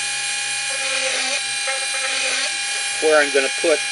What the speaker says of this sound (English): right now I'm using my Dremel tool